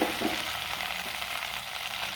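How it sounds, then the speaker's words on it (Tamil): Cluster beans are stir-fried in oil, with a bright, steady sizzle close up and a few light scrapes of stirring across the short stretch. "இந்த எண்ணெயில் லைட்டாக திரட்டி விடலாம்."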